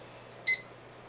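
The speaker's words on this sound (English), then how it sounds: "I told you I'm going to put my timer on it." A single short electronic beep from a kitchen timer set on a simmering chicken, vegetable and couscous soup, close and brief over a quiet steady background hum.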